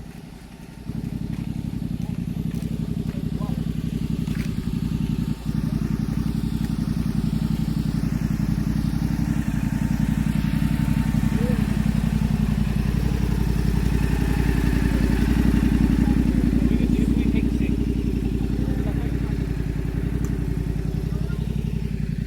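A motorcycle engine runs nearby in a Philippine outdoor setting, a steady mid-pitched drone with clattering undertones that holds for about twenty seconds, while people chat faintly in the background.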